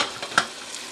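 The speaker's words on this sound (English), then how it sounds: "I'm going to put this broccoli in the pan while it's boiling" Broccoli cooking in a boiling pan for cheesy broccoli soup, with a steady close bubbling hiss and one brief louder splash or clink partway through.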